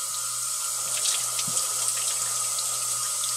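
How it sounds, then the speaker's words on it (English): Water runs steadily from a tap down a sink drain, a continuous broadband rush at close range with faint splashes and no voices, used for rinsing after etching DIY PCBs on thermal tape. "just run plenty of water down the drain"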